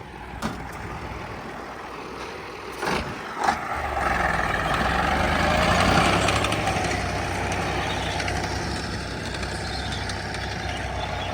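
A heavy diesel engine of a T-150 crawler tractor cranks with a few knocks, then catches and settles into a loud, steady rumbling idle that fills the rest of the clip.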